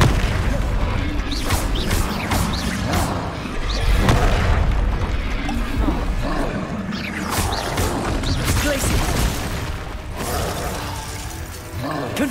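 Confringo blasting spell explosions in Hogwarts Legacy, a video game, sound as repeated booming blasts with mechanical clatter and creaks, loud and dense throughout among other spell effects.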